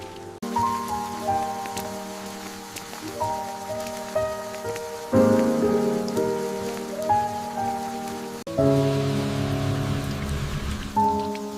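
Steady rain falls on surfaces on a rainy evening in Tokyo, a continuous wash of drops heard alongside soft melodic tones throughout, with no talking.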